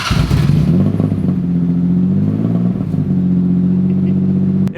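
A Subaru boxer engine idling with a newly installed UEL header, a loud, steady, throbbing exhaust burble close by that holds an even rumble with slight wavers throughout, no voices.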